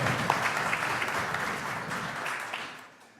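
An audience at a holiday church concert applauds with dense, continuous clapping that stays full and even, then begins to fade toward the end.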